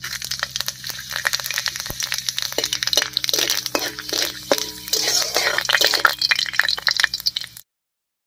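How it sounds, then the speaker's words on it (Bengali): Dried chilli and panch phoron crackle and spit as they fry in hot mustard oil in a wok, with sharp popping bursts over a steady hiss that ends in a brief silence. "তেলের মধ্যে দেব একটা শুকনো লঙ্কা আর 1/2 চামচ মতো পাঁচফোড়ন"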